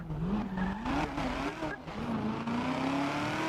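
Racing cars in a video game roar with a steady, rising engine drone and squealing, skidding tyres, loud and continuous throughout.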